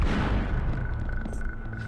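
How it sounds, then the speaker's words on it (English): A booming explosion in the video game Abe's Exoddus, a loud low thump at the start that rolls off into a fading rumble with faint tonal game sounds behind it. "with the explosions, you don't get knocked on your ass each time"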